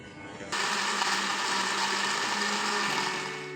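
A blender switches on abruptly and whirs loudly and steadily for a few seconds blending melon with seeds, coconut meat, coconut water and ice, its motor droning with a high grinding buzz.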